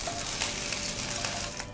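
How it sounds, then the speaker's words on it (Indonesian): Shrimp fry in hot oil in a wok, giving a steady, dense sizzle with small crackles throughout, close by and fairly loud, with no talking. "goreng udang. Udang goreng setengah matang juga ya teman-teman"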